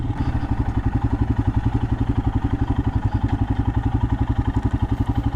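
A Royal Enfield Himalayan single-cylinder motorcycle engine thumps steadily while riding, a loud, close, even pulse of exhaust beats with a mechanical clatter over it and no talking.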